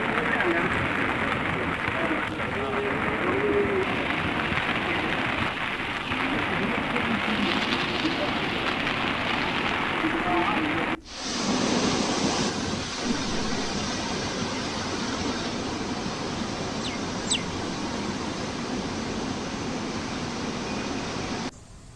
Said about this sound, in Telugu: ఏలూరు జిల్లా వ్యాప్తంగా ఎడతెరిపి లేకుండా భారీ వర్షాలు కురుస్తున్నాయి.